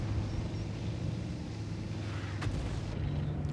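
Tank cannon fire from a World of Tanks battle rumbles low and steady as a distant, muffled barrage, with one brief sharper report near the middle and no close shots.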